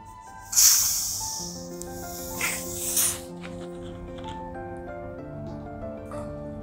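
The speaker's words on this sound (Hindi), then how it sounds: "Again top up with soda." Soda water poured to top up a whisky cocktail in a tall glass, with a sharp fizzing hiss bursting in near the start and again mid-pour, then settling into a soft steady effervescence over background music.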